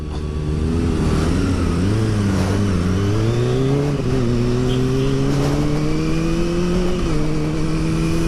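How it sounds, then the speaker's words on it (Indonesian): A truck passes on a road, its loud engine drone rising steadily in pitch throughout, close and continuous, with no talking. "ada truk."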